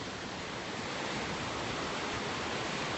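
Ocean waves at Hendry's Beach in Santa Barbara on a foggy morning make a continuous broad wash of surf, steady and fairly loud with no distinct breaks and no talking.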